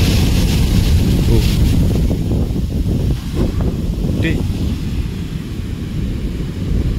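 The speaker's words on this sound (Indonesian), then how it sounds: "Ini ombaknya." Large ocean waves on the southern coast of Lumajang roar and wash steadily, with heavy wind buffeting the microphone throughout.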